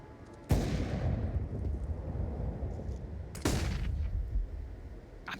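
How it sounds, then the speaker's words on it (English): Two heavy blasts, one early and one about three seconds later, go off in a Counter-Strike match on the Vertigo map at a professional esports event, each followed by a dense rumbling wash of gunfire and explosion noise. "Observe the grenades flying in his direction."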